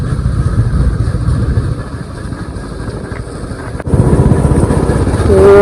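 A motorbike engine drones steadily as it rides through dense forest at night on the way toward Badrinath, loud and continuous, with a brief dip then a louder surge near the end.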